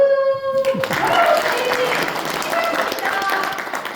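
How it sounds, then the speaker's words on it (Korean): An audience applauds at a Korean regional policy talk with university and research speakers; after a brief tone, clapping swells loudly and then continues more softly, with voices mixed in. "참여하시려면 박수!"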